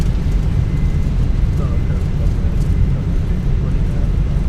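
Airbus A321 in the Fenix flight simulator slowing on the landing rollout, a steady loud low rumble of engines and runway roar with no break throughout.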